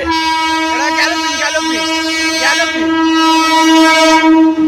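A train sounds a long, steady, horn-like tone close by, with squealing, sweeping pitches rising over it in short bursts for nearly five seconds.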